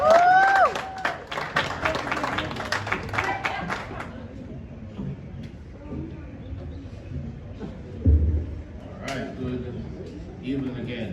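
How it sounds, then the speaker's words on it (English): At the UWI commuters award ceremony, a crowd claps and cheers for Mr. Daniel Collins in a short, lively burst with whoops that dies out after about four seconds, followed by quieter room noise and a few scattered claps. "A round of applause for Mr."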